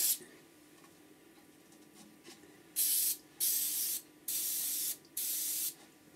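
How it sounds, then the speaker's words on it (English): Four loud bursts of CA glue activator sprayed onto a natural-edge wood-turned bowl, each short hissing spray separated by brief pauses, close and alone after a quiet start. "let's hit it with a bit of activator"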